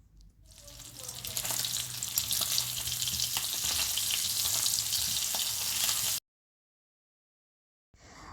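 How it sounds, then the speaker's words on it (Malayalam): Mustard seeds, dried chillies and curry leaves hit hot oil in a home kitchen tempering, giving a loud, close, crackling sizzle for about six seconds before abrupt silence and a brief return of sound. "കുറച്ച് ഓയിലിലേക്ക് കുറച്ച് കടുക് ഇട്ട് കൊടുക്കുന്നുണ്ട്. അപ്പോൾ അതിലേക്ക് കുറച്ച് വറ്റൽമുളകും അതുപോലെ തന്നെ കറി ലീവ്സും ഇട്ട് കൊടുക്കുന്നുണ്ട്"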